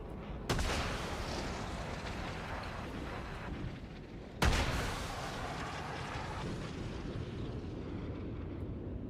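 Missiles and gunfire in the War Thunder video game, heard as two sudden heavy blasts, each followed by a long rumbling roar that slowly fades.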